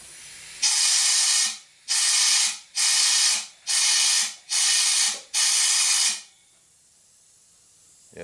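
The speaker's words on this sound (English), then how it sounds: "you can actually hear the air blowing up through here." Air compressor nozzle blows through the breather of a Honda VTX 1800 motorcycle in six close, loud hissing bursts of about a second each, separated by short gaps, then stops.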